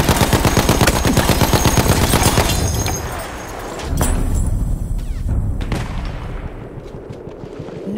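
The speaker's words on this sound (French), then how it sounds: "Attention! Mitrailleuse!" Battlefield 1 battle sounds open with close, dense rattling machine gun fire, then give way to scattered heavy shots and thuds that fade toward the end.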